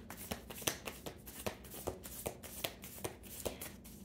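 A deck of tarot cards is shuffled close by in a quiet room, a run of quick riffling bursts repeating about twice a second with no one talking.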